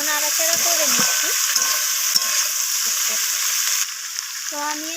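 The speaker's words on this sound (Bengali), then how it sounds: "তো বেগুনগুলো দিয়ে আমি আবারও নাড়াচাড়া করে নিচ্ছি।" Vegetables and eggplant frying and being stirred in a pan for a Bengali chorchori, a steady close sizzle throughout with spoon or spatula scrapes and clatter, quieter near the end.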